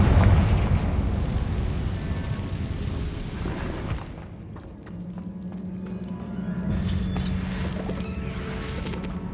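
Confringo spell blasts in Hogwarts Legacy, a heavy rumbling explosion that fades over several seconds, followed by a sustained droning hum and a fresh burst of crackling energy toward the end.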